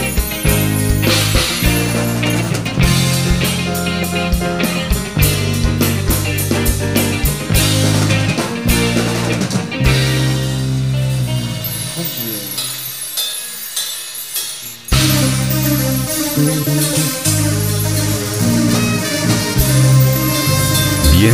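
A live cumbia band performs a song, with driving percussion, bass and melodic instruments in a steady danceable rhythm, loud and full throughout with a brief thinner break midway.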